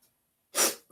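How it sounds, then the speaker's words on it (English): A single sharp sneeze from a person, close and brief, with a faint breath before it. "I think I'm going to sneeze."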